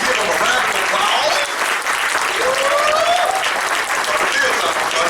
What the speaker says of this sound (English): if we could please give a round of applause for these awesome mentors for putting this event on tonight